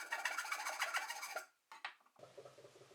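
A rasp files a wooden rafter tail for touch-ups, giving a fast, scratchy rhythmic rubbing up close, followed by a short pause and then a few softer, duller strokes.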